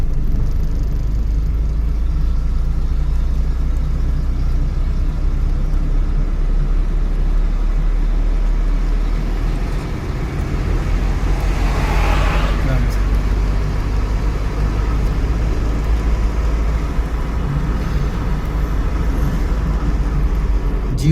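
A car in a driving lesson, engine pulling up through the gears into third: a steady low engine rumble and road noise throughout, close and constant, with a brief dip mid-way and a voice speaking over it.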